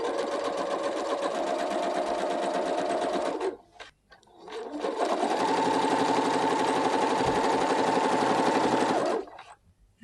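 A sewing machine fitted with a twin needle stitches pintucks on lightweight fabric, running in a steady fast whirr that pauses briefly midway and then resumes for several more seconds, close and alone.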